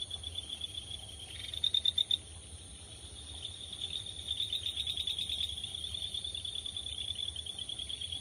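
Ryukyu kajika frogs call in breeding season outdoors at night. Their high, trilling chirps come in repeated bursts over a steady background chorus of insects, fairly faint and at a distance.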